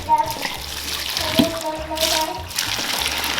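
Water is poured from a pot onto tamales at the side of a cooking pot, a steady splashing pour heard up close with faint background sounds.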